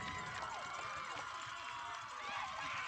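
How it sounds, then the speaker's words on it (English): Crowd at a Friday night high school football game between Bunkie and Jena roars in a broad, sustained swell, moderately distant, with mixed shouting and cheering throughout. "And the crowd roars"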